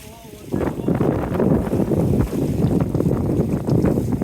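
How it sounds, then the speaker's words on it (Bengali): Strong wind and big waves at sea, heard from aboard a fishing boat: a loud, rough roar of wind buffeting the microphone surges in after a quiet half second and keeps churning, with no clear speech. "সমুদ্রে একটু বাতাস হওয়ার কারণে বেশ বড় বড় ঢেউ হচ্ছে"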